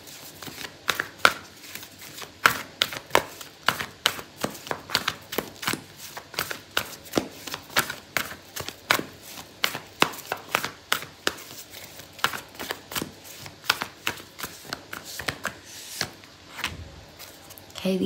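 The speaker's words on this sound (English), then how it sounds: "I'm gonna pull out an oracle card for you." Oracle cards shuffled by hand for a tarot reading, a long run of crisp, rapid riffling and slapping bursts repeating steadily at close range, with almost no talking.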